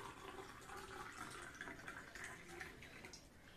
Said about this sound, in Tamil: அந்த கிளாஸ்ல பாத்தீங்கன்னா தண்ணி ஊத்திக்கோங்க